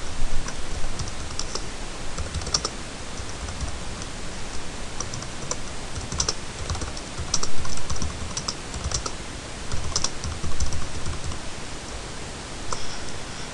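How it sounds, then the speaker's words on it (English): Steady typing on a computer keyboard, a close run of light key clicks with brief pauses and slight bursts, alone without talk. "what you're about to type now, will be what this says in the box"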